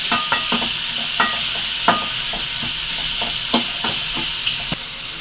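Tomatoes for channa masala sauté in a pan under a loud steady sizzle, with a spatula tapping and scraping the pan in a regular rhythm of about a dozen clicks, close and clear.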